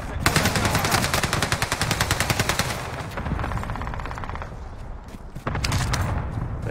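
Rapid automatic gunfire in a video game rattles in dense, loud bursts, one long sustained volley, a short break, then another burst.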